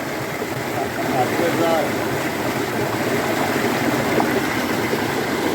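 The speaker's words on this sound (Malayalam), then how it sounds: "ഈ ഇടയിൽ കൂടിയാണ് ഈ വെള്ളം മൊത്തം വരുന്നത്" Water rushes steadily over rocks at Kalluvathil in Malayattoor, Kerala, in a constant, full hiss that continues unbroken throughout.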